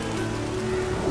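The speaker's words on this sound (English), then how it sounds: "There's no point standing here in the rain." Rain falls steadily in the video game The Witcher 3, a dense hiss of drops on surfaces over a faint low tonal hum, brief and unbroken with no speech.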